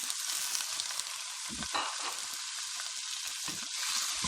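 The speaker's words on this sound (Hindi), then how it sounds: "चिकन हमने डाल दिया। थोड़ी देर के लिए भूनेंगे।" Chicken pieces fry in a pan, a steady close hiss of sizzling oil with occasional soft stirring bumps beneath it, no voices.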